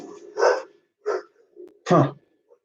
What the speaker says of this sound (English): dog sees something outside.